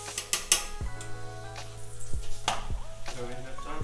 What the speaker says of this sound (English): As you can see, we're getting a lot of oil coming out from the mince.